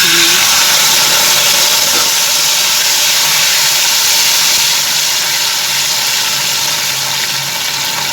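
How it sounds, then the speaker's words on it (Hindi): Boiled, ground onion paste frying in hot mustard oil, giving a loud, steady broadband sizzle and hiss that runs unbroken from start to finish with no pauses. "देखिए, प्याज को हम इतना भूनेंगे कि प्याज का कलर जो है चेंज हो जाए"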